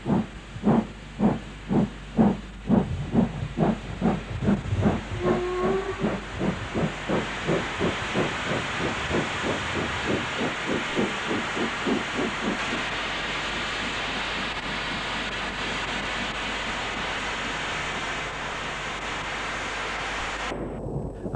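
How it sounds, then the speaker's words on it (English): Unrebuilt Patriot steam locomotive 45518 Bradshaw entering a station, with rhythmic chuffs slowing and blending into a sustained loud hiss of steam, and no voices. "Unrebuilt Patriot number 45518, Bradshaw, is seen entering the station."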